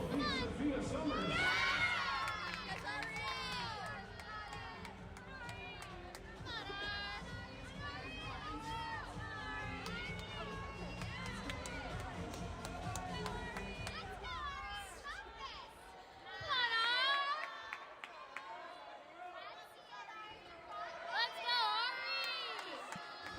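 Crowd cheering and shouting at a women's NCAA gymnastics meet between William & Mary and Alaska, with a steady roar of high cheers and whoops, a quieter lull, then renewed bursts of shouting near the end.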